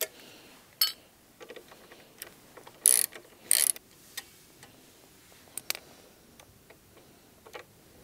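An 8 mm socket ratchet works on the side stand bolt of a Honda CRF300L motorcycle, giving scattered close clicks and a few short bursts of ratcheting amid quiet pauses.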